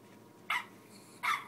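A dog barks twice from a YouTube video played on a speaker, two short, sharp barks roughly three-quarters of a second apart over a quiet room hum.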